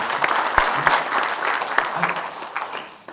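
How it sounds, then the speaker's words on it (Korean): An audience at a Korean labor union federation's general assembly applauds, a sustained round of clapping with a few sharper, louder claps standing out, while voices murmur faintly underneath. "박수 부탁드리겠습니다."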